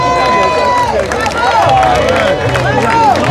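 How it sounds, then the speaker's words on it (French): Crowd clapping and cheering at the Tour de la Guadeloupe cycling race, a continuous outdoor wash of applause and babble with a voice speaking over it on a loudspeaker. "on les applaudit très très fort"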